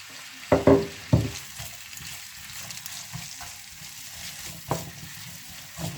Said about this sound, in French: On va faire revenir en premier les oignons.